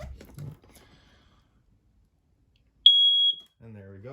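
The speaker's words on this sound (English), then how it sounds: "This guy detects it and starts going off just like your fire alarm would." An RV propane detector alarm inside a 2022 Wildwood 36VBDS travel trailer lets out a short, piercing electronic beep, sounding alone for about half a second after faint talk and followed by someone speaking.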